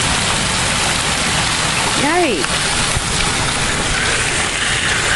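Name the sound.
heavy rain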